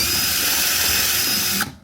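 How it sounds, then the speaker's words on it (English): A power drill bores out a stuck rivet, a steady loud whine and grind running continuously before cutting off abruptly, heard alone with no talking. "So you need to drill it out."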